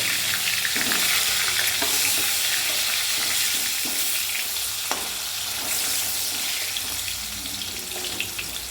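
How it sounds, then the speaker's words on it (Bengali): Potato pieces fry in hot oil with salt and turmeric, giving a continuous close sizzle with scattered crackles and occasional stirring knocks, no voices. "আমাদের নুন হলুদ দিয়ে আলুটা ভালো করে ভেজে নেব"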